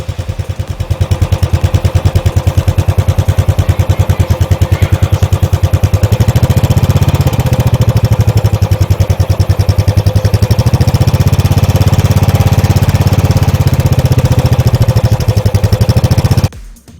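A Royal Enfield Standard Bullet 500cc motorcycle, forest green BS-IV model, runs steadily up close, its loud single-cylinder thump holding a constant rapid beat with slight swells in revs before cutting off at the end.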